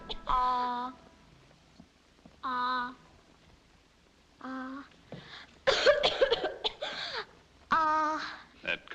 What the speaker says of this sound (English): That cough doesn't seem any better